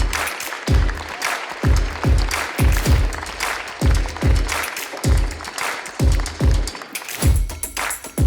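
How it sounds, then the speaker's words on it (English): Conference audience applauding at a risk management and insurance forum, a dense steady round of clapping with rhythmic thumps underneath, loud and close throughout. "So give them a big round of applause, because here they are, all of them, please."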